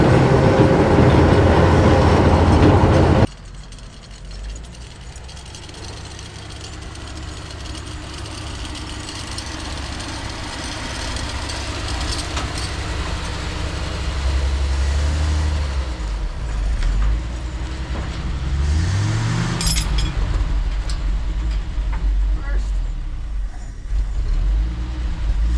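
A 1962 Dodge D300 truck back on the road after 34 years, its engine droning steadily from inside the cab with low rumble and rattles, after a loud burst at the start.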